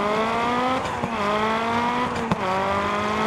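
A Lancia Delta rally car in DiRT Rally drives a stage, its engine droning and rising in pitch through the gears, with brief dips at shifts and short sharp gravel or impact bursts.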